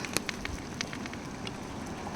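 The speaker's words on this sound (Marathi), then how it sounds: "त्या मागून पाऊस आला पाऊस आला आवाज करत करत" Rain falls outdoors where goats are grazing, making a steady crackling patter with scattered sharper drop impacts close by.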